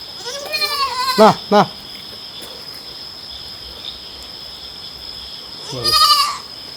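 Two goat kids, one male and one female, bleat in short, wavering cries, first a run of calls near the start and another cluster near the end, with a steady high insect-like hum throughout.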